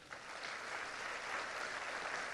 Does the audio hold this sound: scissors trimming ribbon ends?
no